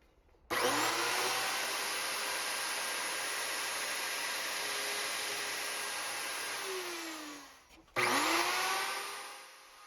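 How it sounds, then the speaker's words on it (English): Router fitted with a straight cutting bit whines loudly as it cuts a wooden cylinder, a sustained high motor tone that spins down near the end, then restarts briefly. "I use a router with a straight cutting bit to"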